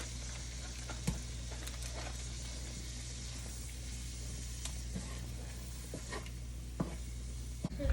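Butter and garlic fry in a pan with a steady, low sizzle that holds at an even level. A few faint clicks and light stirring sounds come through on top of it.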